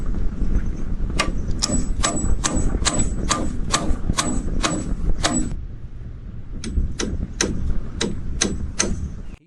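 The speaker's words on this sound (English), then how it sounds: "he drives pegs into the beam with steady force" Wooden pegs are hammered into a beam on an off-grid build by a lake. Sharp, loud, evenly spaced strikes come in a long run, stop briefly, then resume in a second steady series.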